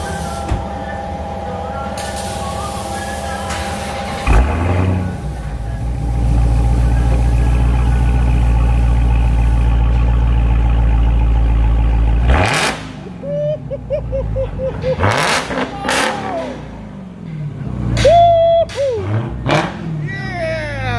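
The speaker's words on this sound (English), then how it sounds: "give me a couple revs" A 2021 Dodge Charger Hellcat Widebody with a muffler delete idles, then erupts into a deep, sustained roar before firing off several sharp, loud revs that rise and fall, with voices talking around it.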